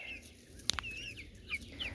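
Backyard hens give soft, scattered clucks and short chirps, fairly quiet and close, with a couple of brief sharper notes in the middle over a faint outdoor background.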